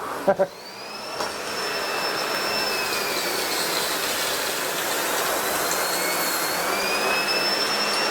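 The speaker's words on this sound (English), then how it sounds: "I'm going to increase suction and go on a hard floor." A SEBO Airbelt E2 Turbo vacuum cleaner running on a hard floor at high suction, a loud, steady roaring whine with a slowly shifting high tone after a couple of quick clicks at the start.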